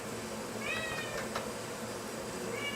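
A cat meows a few times in a steam room, short rising cries standing out over a steady hiss of background noise.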